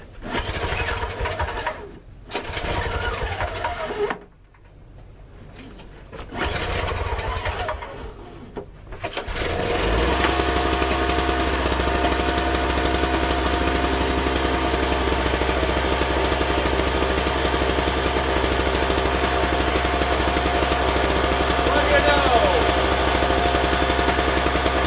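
MTD snowblower small engine cranked several times with short sputtering bursts and pauses, then catching and running at a steady loud buzzing drone close by.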